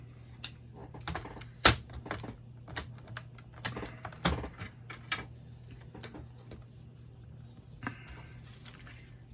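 Paper for a handmade waterfall card being cut on a trimmer, a close series of irregular sharp clicks and slicing taps over a low steady hum, with no talk.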